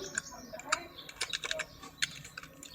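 Someone types a password on a computer keyboard, giving a quick run of close, light key clicks in irregular bursts over a quiet room background.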